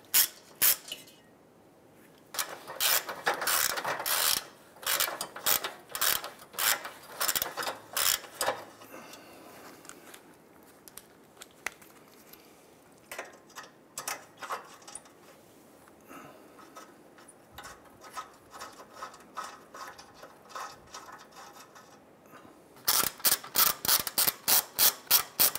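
A ratchet backs nuts off the rear catalytic converter flange of a 2009-2015 Honda Pilot, giving rapid close clicking in repeated bursts, loud at the start and end, with quieter, sparser stretches between.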